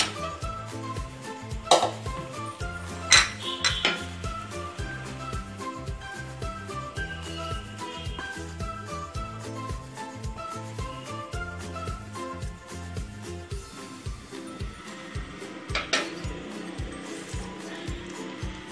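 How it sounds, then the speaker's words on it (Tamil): A spoon scrapes and clinks against a metal pan and bowl as palkova milk sweet is moved into a serving bowl. The repeated knocks and scrapes form an uneven rhythm, close and moderately loud, with no talk. "இந்த பவுலில் மாற்றிடலாம்"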